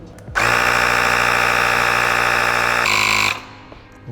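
A portable powerbank tyre inflator pumping a car tyre, its motor starting abruptly into a loud, steady buzzing whine that shifts slightly in pitch before cutting off.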